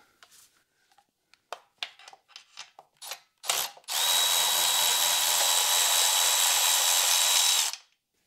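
Several sharp clicks and short rattles come first. Then a power tool whirs loudly and steadily for about four seconds, up close, as it takes a 10 mm bolt off a car transmission with an N43 engine.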